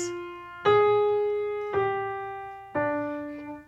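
Slow piano notes give a fugue subject in augmentation, with three long, evenly spaced single tones, each struck firmly and left to ring and fade, alone and clear.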